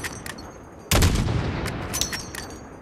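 Rifle fire in the Modern Warfare video game: a sharp, loud shot bursts out and rings into a long rolling echo, following fainter clicks and mechanical ticks.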